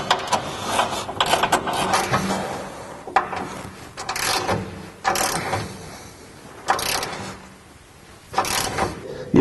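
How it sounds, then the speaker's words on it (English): Bolts on a Rockhard 4x4 skid plate are tightened up front on a Jeep JK, heard as several short, loud mechanical bursts of wrench or driver spaced a second or two apart, with quieter clanks and handling between. "we want to go ahead and tighten the rest of the bolts up in the front"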